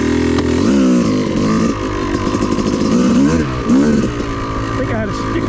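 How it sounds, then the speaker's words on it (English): A Yamaha YZ dirt bike engine revs at full throttle on a wooded off-highway trail, loud and close, in a buzzing two-stroke wail that swoops up and down in repeated surges while a voice talks over it. "just hold your gas full throttle"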